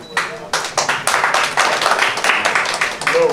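Audience clapping for a performer's stage entry at a Bhojpuri film event, a loud burst of crisp, fairly rhythmic hand claps that builds and stays dense, close and lively.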